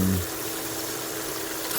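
Water rushes steadily through a paydirt sluice on a hillside, a constant close hiss and wash with no break from start to finish.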